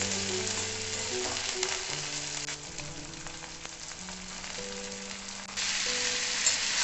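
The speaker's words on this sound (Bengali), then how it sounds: "চিকেনটা দিয়ে আমি কিছুক্ষণ ভেজে নেব।" Chicken pieces fry in a pan with chopped tomatoes over a medium gas flame, giving a steady close sizzle with occasional stirring scrapes, alone without talk.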